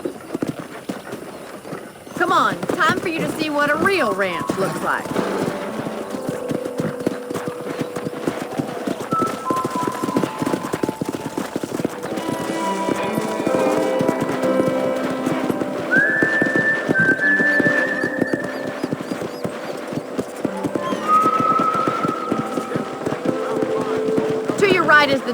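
Hooves clip-clopping steadily as horses gallop in the video game Red Dead Redemption, a fast continuous rhythm with some whistling tones and a background score, while a person speaks over it.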